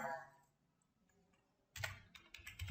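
Typing on a computer keyboard while editing a Fortran program, a short quiet burst at the start, a pause, then a louder cluster of rapid key clicks near the end.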